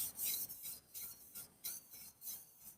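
Honesuki knife sharpened on a wet whetstone, a series of quiet rhythmic hissing strokes, about eight evenly paced back-and-forth passes, close and soft, with no talk.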